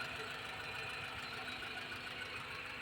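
A Mitsubishi Lancer with a 4G92A engine runs after a tune-up with thermostat replacement and fuel injection cleaning, giving a steady, even idle hum with a faint mechanical ticking and no talk over it.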